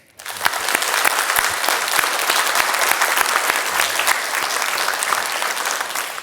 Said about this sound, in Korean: 우리 인사하시는 우리 두 분의 장로님께 우리 박수하겠습니다